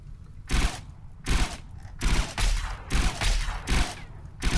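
Gunfire from the video game RimWorld, loud rapid bursts of shots coming in repeated clusters with short gaps between them, close and sharp.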